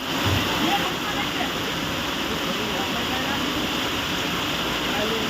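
Monsoon floodwater roars through the Jithudi river during heavy rain, a loud, constant, close rushing wash with no breaks, and faint voices sit underneath.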